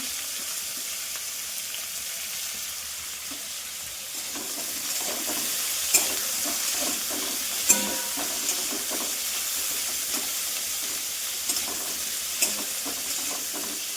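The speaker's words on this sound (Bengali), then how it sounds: "এবার সব সবজিগুলো ভালো করে ভাজা ভাজা হবে" Vegetables sizzle steadily in a hot pan, with a few sharp clicks and scrapes of stirring now and then; no one speaks.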